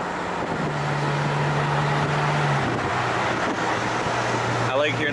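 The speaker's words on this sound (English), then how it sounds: "I like hearing that pop, that rumble." Ferrari California engine giving a steady, low rumbling drone beneath constant road and wind noise, with the pitch holding and then stepping down as it runs on.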